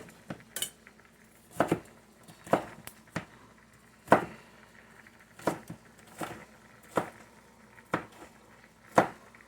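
Knife chopping vegetables for pico de gallo on a cutting board in a home kitchen, a series of about a dozen crisp, fairly quiet knocks at an uneven, unhurried pace, with no talking.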